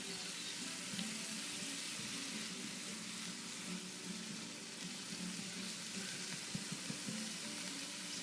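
Onions fry in a pan for red borscht, a steady, even sizzle that holds at a moderate level the whole way through, with no talking over it.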